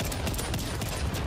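Shotgun fire in the shooter game Call of Duty: Vanguard, a brief dense burst of loud overlapping blasts lasting just over a second.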